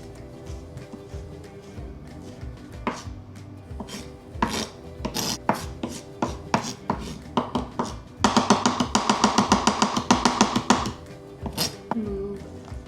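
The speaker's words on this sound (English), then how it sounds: "Just make them into tiny pieces, small pieces, as small as I can." A knife chops ingredients for Mexican food, such as nachos and guacamole, into small pieces on a cutting board, with irregular close taps that speed into a fast, dense run of chopping near the end.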